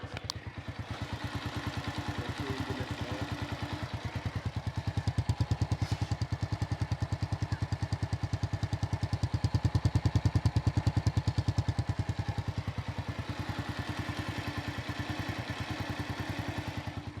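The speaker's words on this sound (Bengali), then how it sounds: "যদি ইঞ্জিনের সাউন্ড শোনেন একেবারে নতুনের মতো সাউন্ড বলা যায়" A used Dayang RunDeluxe AD80 motorcycle idling close by, a steady even engine putter with a fine mechanical clatter, holding level for the whole stretch with a slight swell in the middle, no voices.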